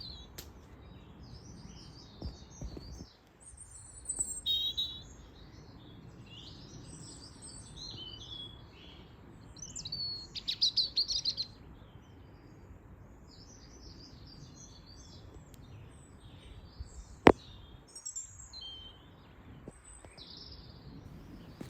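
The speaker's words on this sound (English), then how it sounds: "let's take a moment to listen to Mr. Robin. His song is just so beautiful." A bird sings in bright, high, warbling phrases against a soft outdoor hush, with one sharp click partway through.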